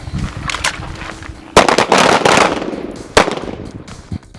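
Gunshots ring out during laser-sight firearms training, a ragged volley of loud, sharp reports at about two, three and three-second intervals, with echoing bangs and scattered lighter shots between them.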